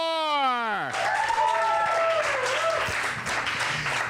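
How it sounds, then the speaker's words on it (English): Audience applause and clapping for a comedian at an open mic night in a small theater, a steady wash of hands rising after a short musical tone, with scattered voices mixed in. "One more big round of applause for Sarah Moore"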